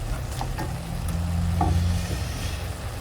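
Soya mince spaghetti bolognese sauce, vegan and oil-free, cooking in a pan: a low, steady simmer with a soft sizzle and a few faint clicks, and no one talking.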